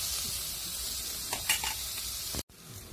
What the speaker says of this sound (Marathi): कांदा आपल्याला चांगला लालसर परतून घ्यायचा आहे